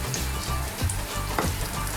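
Buns frying in cooking oil in a pan over a low flame, a steady close sizzle with soft crackles and occasional stirring, no voices.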